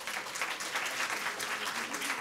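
A conference audience claps as a show-of-hands vote, a brief, quiet, even patter of applause from a moderate distance.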